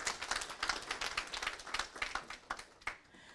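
Applause from an audience at a school district study session: a dense, steady patter of many hands clapping at moderate distance, fairly quiet, thinning out near the end.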